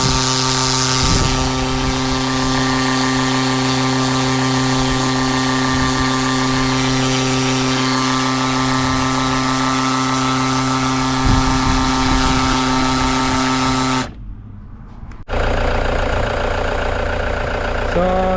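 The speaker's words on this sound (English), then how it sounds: "Since the engine is running, car is starting" A car engine idles steadily with a smooth, continuous low hum and a brief dip in level near the end, running while the transmission fluid level is checked.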